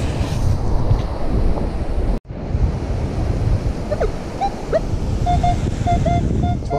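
Ocean waves wash up onto a beach in a steady, loud roar with wind buffeting the microphone and a brief dropout partway through.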